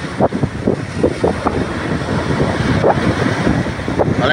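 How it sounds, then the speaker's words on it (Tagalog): Rough surf churns continuously at Dolomite Beach, Manila, buffeted by heavy wind noise against the microphone, with no voices. "Parang galit na galit yung alon"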